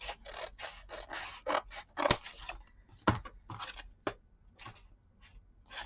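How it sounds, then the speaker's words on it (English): Scissors snip through a paper gift bag in a quick series of close, crisp cuts with short pauses between, some strokes sharper and louder than others, with no talk. "So I'm just trimming this piece off."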